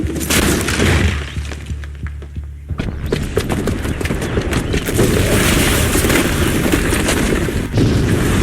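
A bomb detonates in Horizon Zero Dawn with a loud, sustained blast roar, crackling debris and bursts rolling on for several seconds, filling the scene without any voices.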